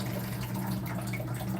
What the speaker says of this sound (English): Pour out that water.